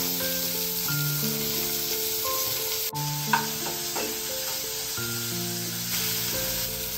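Vegetables with green peas and chopped tomato sizzle steadily in a pan for a khichuri, with occasional stirring scrapes, heard close under a layer of background music.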